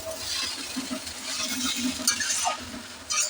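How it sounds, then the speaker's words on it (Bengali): Chow mein being stirred in a small pan: soft continuous sizzling with scraping and light clinks of the utensil against the pan, close and fairly quiet, no talking. "এতটা চাউমিন না নাড়তে খুবই কষ্ট হয়"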